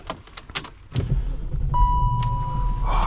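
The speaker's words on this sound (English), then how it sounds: "Oh, that starting sound is so nice." A 2001 BMW X5 4.4i starts up with a brief starter whirr and a chime, then its engine settles into a steady low idle rumble, heard close from inside the cabin.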